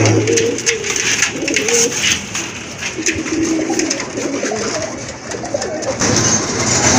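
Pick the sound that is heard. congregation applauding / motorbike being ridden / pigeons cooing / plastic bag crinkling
pigeons cooing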